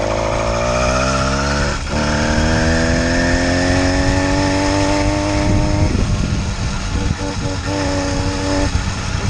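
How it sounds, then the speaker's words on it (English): An 80cc bicycle engine kit fitted to a bicycle drones loudly and steadily on a country ride, its pitch climbing as it accelerates, dipping briefly, then buzzing on under heavy wind rush. "this is an 80cc bicycle engine kit"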